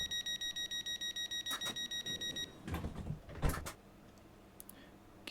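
Southeastern Class 465 train door-locking warning in Train Sim World 3, a rapid pulsing electronic beep repeating about eight times per second for over two seconds, then doors sliding and thudding shut with mechanical clunks.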